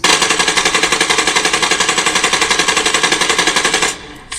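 Rapid automatic gunfire in the mobile shooter Warzone Mobile, fired by holding a gamepad's right trigger: a loud, steady, evenly spaced burst lasting about four seconds, then cutting off abruptly.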